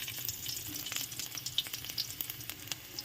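Garlic frying in cooking oil, a dense crackling sizzle of rapid small pops over a continuous hiss, close and fairly even.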